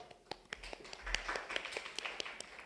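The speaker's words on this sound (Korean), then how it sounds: "박수로 맞아 주십시오." Applause from a Korean competition results-presentation audience welcoming a presenting team, a steady patter of many hands clapping with sharp individual claps standing out throughout.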